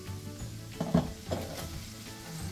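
Asparagus and garlic fry in a pan with a soft, steady sizzle and crackle, plus a few stirring scrapes near the middle, quiet and close with nobody speaking.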